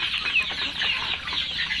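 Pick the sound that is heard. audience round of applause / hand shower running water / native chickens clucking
native chickens clucking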